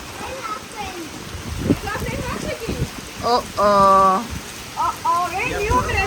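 Rain patters steadily in the background during a karate class while people talk and call out over it, with one drawn-out vocal sound standing out.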